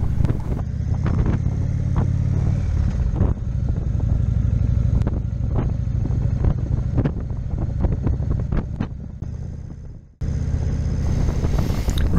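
An Indian Chieftain motorcycle, about 850 pounds, rolling slowly past a marina at Port Monroe, its engine a steady low rumble mixed with wind buffeting the microphone, briefly cutting out before resuming.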